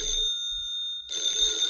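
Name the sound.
telephone ringing in a cartoon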